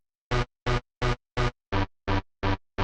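Eight short, punchy makina synth stab chords pitched around C4 in an even rhythm, each cut off sharply with silence between, bright and close.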